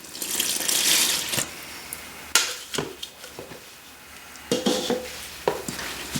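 Water splashes and pours into a flour poolish in a bowl for baguette dough in a few short bursts, with clinks of a utensil or dish between pours, close by and moderately loud.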